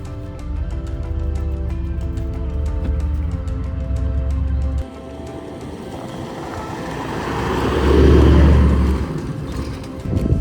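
A vehicle travelling on the road to Barnhill Station in Australia, a steady engine drone and road rumble heard from inside, with the tone shifting midway and swelling briefly before easing off.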